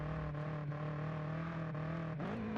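A BMW M8 races in Forza Horizon 5 under hard braking into a final corner, its engine a steady, quiet drone whose pitch dips briefly near the end, with no talking.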